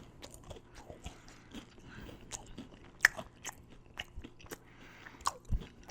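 Close, crunchy bites and steady chewing on a beef patty topped with Walkerswood fire stick pepper sauce. Irregular crisp snaps and soft mouth sounds recur across the stretch, with no talking.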